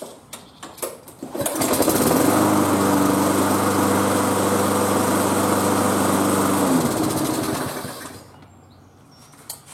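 A lawn mower engine cranks with a few pulls, catches, and runs loud and steady for several seconds with a constant drone before cutting off and falling quiet.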